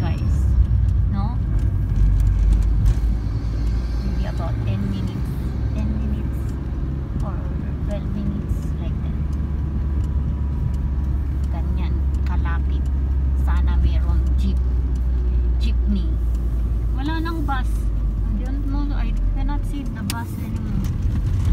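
Steady low road rumble of a car being driven, continuous engine and tyre drone filling the cabin for the whole stretch, with faint voices murmuring over it.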